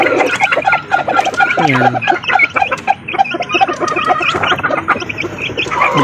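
Three-week-old Super Brown Red and Golden Boy Sweater chicks cheep and peep busily at close range, a dense, continuous chorus of high chirps with a brief low gurgle, while someone speaks over them.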